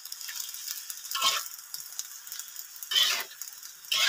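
Spiced vegetable stir-fry being stirred in a pan, with soft, faint sizzling and a few scraping stirs at intervals.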